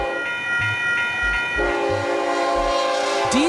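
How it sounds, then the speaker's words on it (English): A diesel train sounds its horn in sustained tonal blasts while wheels clatter beneath in regular thumps, the horn shifting pitch partway through as the train passes close and loud. "Diesel train."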